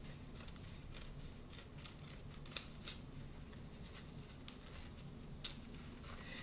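Scissors snip through fabric scraps for a decoupage project, a run of quick, crisp cuts with small bursts and rustling at an irregular pace, close and fairly quiet, with no talking.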